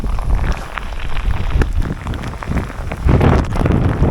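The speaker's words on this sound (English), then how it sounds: "That is heavy rain." Heavy rain pours down in a dense, loud, steady roar on the Cape Wrath Trail in Scotland, drumming hard on nearby surfaces without letup.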